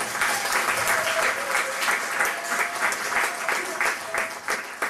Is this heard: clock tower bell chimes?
no